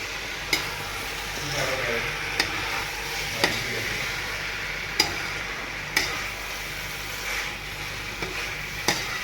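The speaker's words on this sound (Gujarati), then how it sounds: "કેળા આપણે નાખી દીધા છે, અને સારી રીતે આપણે હલાવી દઈશું." Raw banana curry being stirred in a pan, a steady sizzle of frying with regular sharp scrapes of the spoon against the pan roughly every second, with no talk.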